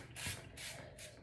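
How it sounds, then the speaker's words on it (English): Three quick hissing bursts of hair spray aimed at the scalp close by, each about a third of a second, with short gaps between. "I normally just spray it on the scalp."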